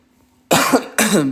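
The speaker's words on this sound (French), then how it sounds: "Excusez-moi, je tousse." Two sharp, loud coughs in quick succession, close up, each a harsh burst with a short gap between them.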